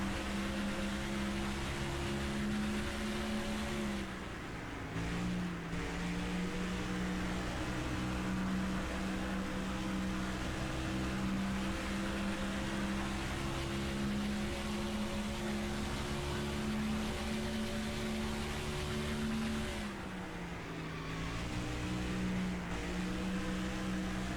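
Race car engine from the NASCAR Thunder 2004 video game, a steady loud drone with strong harmonic tones that dip briefly twice as it lifts off and comes back onto the throttle through turns.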